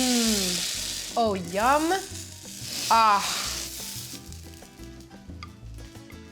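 Bread for torta pambazos sizzles and crackles steadily in an oiled hot pan right after being flipped, a soft continuous frying hiss under a woman's brief spoken reaction.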